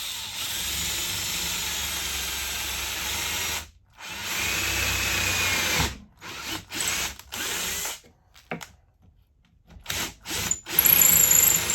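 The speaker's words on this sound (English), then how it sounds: "Just going to take a hand drill and drill it" A hand drill drills a hole in a homemade marking gauge, running in several bursts, whirring steadily then stopping and restarting in short spurts, close and loud.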